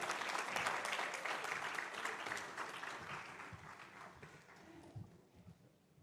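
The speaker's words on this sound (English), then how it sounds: "Round of applause for Ms." A conference audience gives a sustained round of applause, dense clapping that is loud at first and then gradually thins and fades toward the end.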